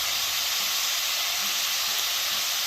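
Steak searing in a pan with seasoning for a flatbread, giving a steady, broad hiss and sizzle that holds evenly throughout, with no talk.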